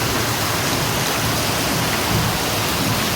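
Steady heavy rain falls in a village during a thunderstorm, a dense, continuous hiss without breaks, loud and close, with no voices over it.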